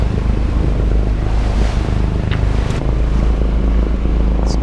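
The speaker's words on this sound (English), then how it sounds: "So I'm just going to keep motoring for the time being" A sailboat motors along the open ocean near the Umatilla Reef in windless conditions, a constant low engine rumble mixed with wash of water and wind buffeting the microphone, with no talking.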